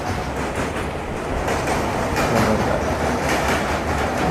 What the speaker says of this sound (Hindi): विजयवाड़ा में और क्या बड़ा खूबसूरत क्रॉसिंग देखने को मिल गई हावड़ा SMVT बेंगलुरु दुरंतो के साथ